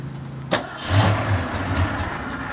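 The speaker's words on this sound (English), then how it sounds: "I'm going to start this car up for you. You're going to hear this motor rumble." A 1970 Boss Mustang starts with a sharp crank and catch, then settles into a deep, uneven rumbling idle close by, with no talking.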